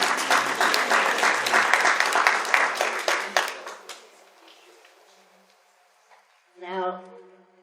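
A conference audience breaks into loud applause that fades out over several seconds, followed by a brief, faint noise near the end.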